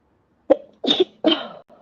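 A sharp sneeze, followed by a couple of fainter breathy bursts close to the microphone, with quiet between them.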